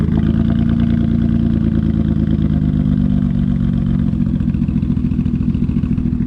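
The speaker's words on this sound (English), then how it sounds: "Gotta fix that misfire though" A demolition derby car engine with a misfire runs loud and close, giving a continuous rumbling idle with an uneven, stuttering rhythm throughout.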